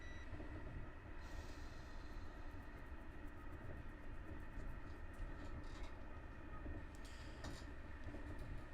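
Red train running along a line in the Train Drive ATS 3 driving game, with a steady rumbling drone and faint rail clatter continuing throughout, fairly quiet, with a few brief higher rattles, no talk.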